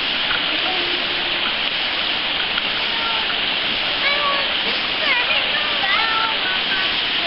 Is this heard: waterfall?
yes